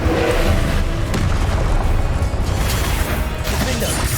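Incendio fire spell blasting in Hogwarts Legacy, a loud booming burst with crackling crash and rumble that decays over a few seconds amid game effects.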